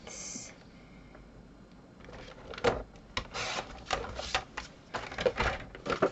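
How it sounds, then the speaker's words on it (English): Paper is cut for a pop-up album page, with a crisp rhythmic series of rustling, slicing strokes close by following a brief quiet lead-in. "So let's just cut this out at 6 5/8."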